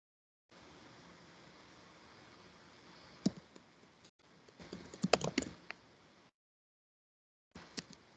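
Typing on a computer keyboard, with soft, uneven clicks that build into a quick flurry of sharper keystrokes over a faint background hiss and are broken by short silences.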